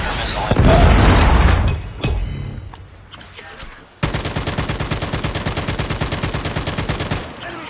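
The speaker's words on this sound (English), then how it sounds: "Predator missile inbound." Predator missile strike in the mobile shooter Call of Duty Mobile, a loud roaring explosion blast followed by rapid sustained machine gun fire, with game voice callouts in between.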